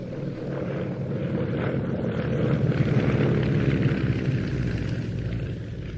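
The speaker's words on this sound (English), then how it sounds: "As above us, we saw one Staggerwing before" Staggerwing biplanes flying overhead at an airshow, two of them in the sky: a steady, loud droning roar of radial engines that swells slightly in the middle and holds throughout, with no talk.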